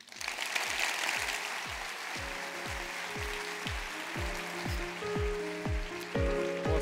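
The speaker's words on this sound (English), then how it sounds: "Give him one more round of applause." Conference attendees at an Awwwards design event applaud a speaker after his talk. Their broad, hissing clapping runs throughout, mixed with a repeating deep thumping beat and sustained musical tones.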